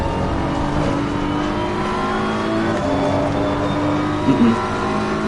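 Race car engines in a racing video game drone and rev continuously as a rival M8 closes in to pass, a close, loud, steady motor whine with shifting pitch and no talk.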